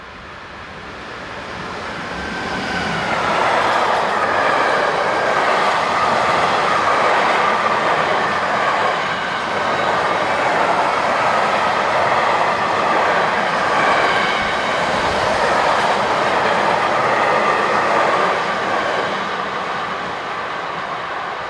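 A passenger train led by locomotive 185254 runs south past the lineside at dusk, a long steady rumble of wheels and rails that swells in from near silence, holds for most of the pass, then eases slightly, with no voices.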